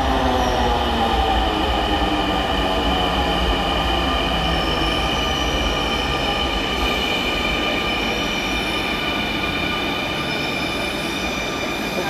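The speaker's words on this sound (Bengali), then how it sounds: "এই যে আরেকটা ট্রেন আসে গেছে।" A Dhaka metro rail train pulling into Shahbag station, with a loud, steady roar of wheels on track and sustained high metallic squealing throughout, heard up close with no talking.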